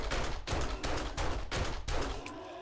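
A pistol is emptied in 7 Days To Die, a zombie survival game set in a forest biome at night: five or six loud, clustered bursts of shots at an even rhythm, each with a brief gap, ending in a fading tail.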